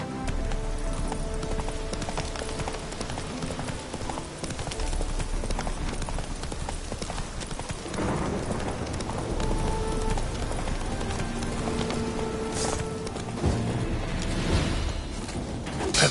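A horse gallops in The Witcher 3: Wild Hunt, its rapid hoofbeats drumming steadily under dense game ambience and music, loud and continuous throughout.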